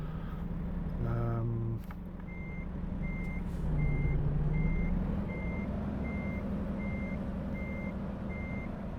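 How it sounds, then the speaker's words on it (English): Regular reversing beeps from a truck in American Truck Simulator pulse at an even pace over a steady low engine rumble, with an air-brake hiss and a short horn-like tone early on. "So much control over where I'm positioning this truck."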